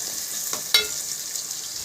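Fish curry, made with choora fish, is stirred in a pan over a high flame. A soft, steady sizzle runs throughout with a single sharp clink near the start and no voice over it.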